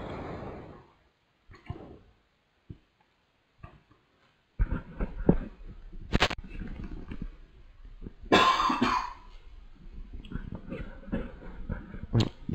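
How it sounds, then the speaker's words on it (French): A short, sharp cough bursts out once amid quiet room noises, with some clatter and shuffling around it. "Désolé, je viens de tousser."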